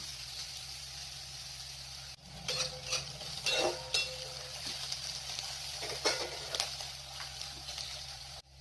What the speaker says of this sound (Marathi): भाज्या छान मिक्स करून घेऊया